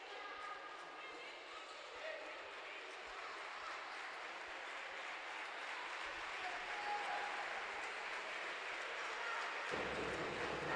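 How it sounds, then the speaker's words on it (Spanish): Applause rolls through an indoor arena during a women's basketball game between IDK Euskotren and Gran Canaria, a steady wash of clapping and crowd noise that holds throughout with no clear pauses. "aplaude el Gasca"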